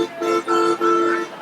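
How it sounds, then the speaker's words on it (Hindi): A vehicle horn honks in a few sustained blasts with short gaps between them, loud and close, at a street protest in Uttar Pradesh. "ये हॉर्न बज रहा है"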